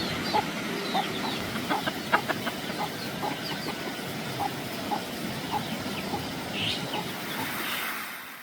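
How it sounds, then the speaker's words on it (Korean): Free-range chickens scratch about in a village on the Jirisan trail, with scattered soft clucks and short calls over a steady outdoor hum, moderately near. "닭을 풀어서 키우고 계시더라고요"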